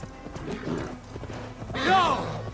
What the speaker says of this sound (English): Go, my horse.